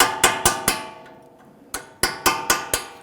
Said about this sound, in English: We're just going to tap around here and shock that rust free.